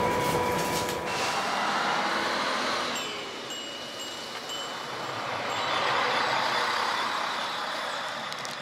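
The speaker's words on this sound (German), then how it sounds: "Wir sind im nächsten Zug Richtung König Wusterhausen." Steady rumble and rattle of a moving regional train in Germany heading toward Königs Wusterhausen, with a faint high whine and occasional clatter, heard from inside a carriage.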